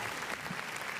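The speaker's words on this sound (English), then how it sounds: "Let's drop some applause right there." Brief burst of dense applause from a crowd, steady clapping filling the whole moment with no pause.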